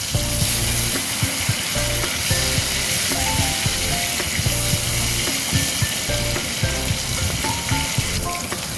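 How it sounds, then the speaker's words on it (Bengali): Pieces of fish sizzle loudly in hot oil in a wok, a dense continuous crackle with rhythmic clinks and scrapes from a spatula stirring and turning them. "এবার কড়াতে তেল দিয়ে মাছগুলি একটা একটা করে ভেজে নেব।"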